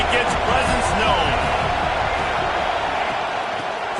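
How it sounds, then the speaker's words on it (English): A loud stadium crowd roars steadily throughout a Texas at Florida game in College Football 26, with dense, continuous cheering and noise filling the whole clip under commentary. "This crowd ready to make its presence known."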